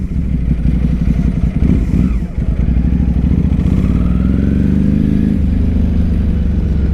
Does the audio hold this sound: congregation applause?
no